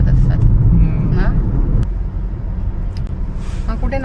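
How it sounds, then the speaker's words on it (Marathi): Road traffic near the Naigaon bridge in Maharashtra, a continuous low rumble of engines and passing vehicles heard from inside a car, with people talking over it. "फुल ट्रॅफिक आहे आता."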